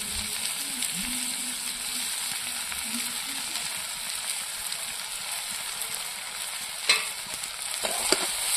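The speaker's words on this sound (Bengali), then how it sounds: "এবার চিনি দিয়ে নাড়াচাড়া করব।" Fried chalta (elephant apple) pieces stirred with sugar in a pan, giving a steady soft sizzle with scraping stirs and a few louder clinks of the spoon near the end.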